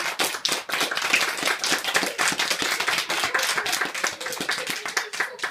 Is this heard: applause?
yes